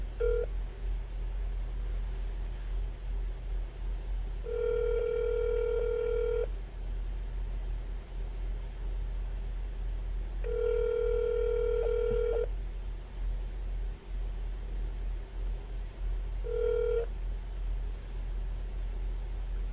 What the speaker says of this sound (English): I'm just going to transfer you over to Jesse now